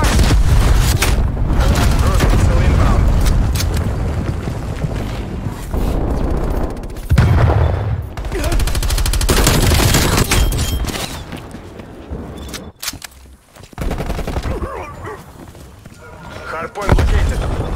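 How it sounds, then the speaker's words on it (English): Cruise missile strike in Call of Duty Black Ops Cold War multiplayer: heavy booming explosions mixed with gunfire bursts, loud and close, several impacts in irregular succession, with a voice talking at times. "Cruise missile inbound."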